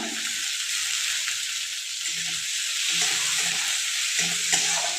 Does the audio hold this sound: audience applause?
no